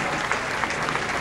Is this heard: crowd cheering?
yes